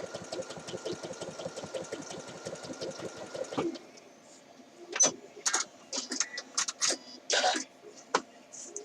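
A sewing machine stay-stitches the neckline of a Simplicity 8014 shirt dress, running in a fast, even rhythmic chatter for several seconds, then stopping; a voice follows in short bursts after the machine falls quiet.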